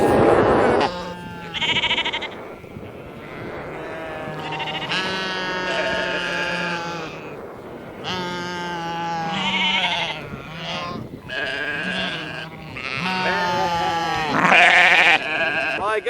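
Sheep bleat repeatedly near a shepherd, a series of loud wavering cries in uneven bursts that overlap and come close together across the whole stretch.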